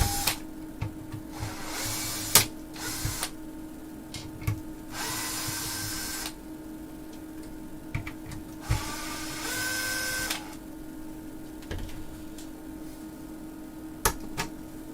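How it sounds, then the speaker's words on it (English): Screws come out of an old-school Alpine car amplifier, with bursts of whirring from a powered screwdriver separated by quieter gaps, small clicks and taps of metal parts, close up and with no voices. "a few more screws on the outside here to take off"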